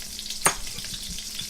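Olive oil and butter sizzle in a pot, a short close burst of frying with one sharp crackle near the start and a soft hiss after it.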